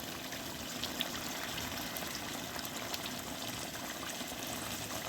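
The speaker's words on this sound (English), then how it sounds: "here I'm putting some hot water for my culls to get cooked nicely" Hot water pours steadily into a pot of culls curry with potatoes, a faint continuous splashing trickle at low level with no talking.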